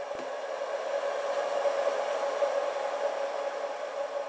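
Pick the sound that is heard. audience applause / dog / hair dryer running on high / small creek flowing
hair dryer running on high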